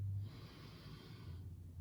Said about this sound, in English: In and out through the nose.